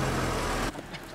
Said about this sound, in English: On top of that, we got cars coming.